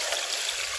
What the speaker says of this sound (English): So we're running in some fresh water here to try and rinse out the mastic that's already come off.